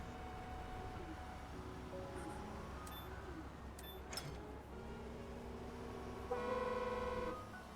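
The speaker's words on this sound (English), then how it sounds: "Sound like I had two train horns trying to go off at the same time." Vehicle horns in the Construction Simulator game sound as faint, sustained tonal blasts that overlap one another, with a brief louder, brighter horn chord near the end over a steady low engine rumble.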